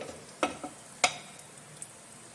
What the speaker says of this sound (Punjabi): ਜਵੈਨ ਜੀਰਾ ਥੋੜਾ ਭੁੱਜ ਜਾਏਗਾ